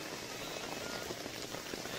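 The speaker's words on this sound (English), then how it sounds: "Imagine just lying down there and listening to the sound of the rain." Rain falls steadily over a rural village in the rainy season, a dense, even patter of drops on surfaces heard close and alone, with no voices.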